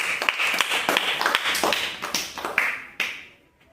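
Several children clap together in a first-class Telugu lesson, a burst of brisk uneven claps close by that fades out toward the end.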